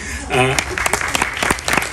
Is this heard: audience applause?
yes